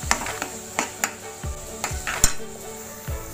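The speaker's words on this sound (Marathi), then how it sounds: "असं छान तेल सुटेपर्यंत असं छान परतून घ्यायचंय कांदा आणि टोमॅटोचं वाटणे" Onion and tomato paste being sautéed in oil for chole masala, with repeated spoon scrapes and clinks against the pot at a steady stirring rhythm over a low sizzle, close and fairly loud.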